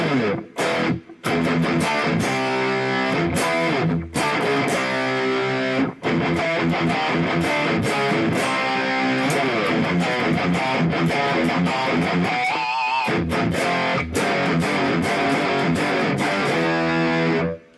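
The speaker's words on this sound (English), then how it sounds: "Here's metal with reverb." A Bullfighter D160SE digital electric guitar plays a heavily distorted metal tone with reverb: loud, chugging chords and riffs with brief stops and a short wobbly bend near the end.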